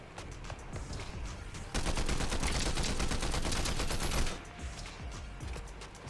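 Rapid hip-fire gunshots in the video game Fortnite, during a zero-build solos match, ring out in dense bursts, with the heaviest stretch of continuous fire in the middle and sparser shots before and after.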